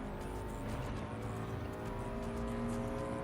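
Subaru WRX engine in Gran Turismo 7 during a weekly time trial, a continuous steady drone at a constant pitch, fairly loud and without talk.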